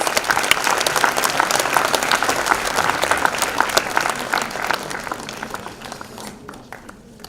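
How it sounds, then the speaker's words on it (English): A conference audience at CAHOCON gives loud, sustained applause to welcome a speaker onto the stage, then the clapping thins out and fades near the end. "A big round of applause, please."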